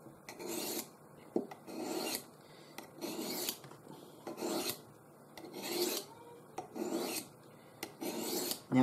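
Knife blade stroked repeatedly along a Buck Edgetek Ultra Flipstik diamond sharpening rod, fine side, blade with chips; steady rhythmic raspy scrapes, about eight close strokes with brief pauses, no talk.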